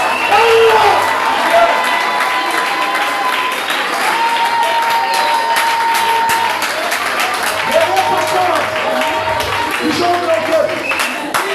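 A church congregation applauding and cheering in praise, sustained loud clapping mixed with whoops and shouts from a large crowd, with voices calling out over the noise.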